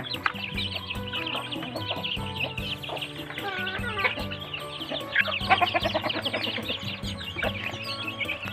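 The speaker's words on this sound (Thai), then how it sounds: "มาให้อาหารไก่" Burmese chickens cluck and chirp steadily in a busy, close chorus while being fed, with overlapping calls and a low background rumble.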